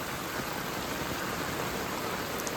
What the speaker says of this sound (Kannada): ಎಷ್ಟು ಜೋರಾಗಿ ಮಳೆ ಬಂದಿದೆ